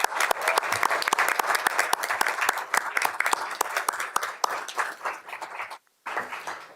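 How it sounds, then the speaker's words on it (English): Applause at a school board of education meeting honors an elementary school staff team, a steady round of clapping from the room that runs for several seconds, then breaks off briefly and resumes. "one last round of applause for the Northeast Elementary team and Miss Brown"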